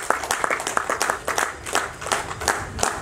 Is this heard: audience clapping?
yes